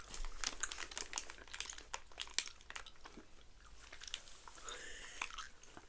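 Chewy gummy candy from a box of Canadian snacks being chewed close to the mic, soft sticky mouth clicks and squelches in an irregular rhythm, with a few crinkles of a wrapper and no talking.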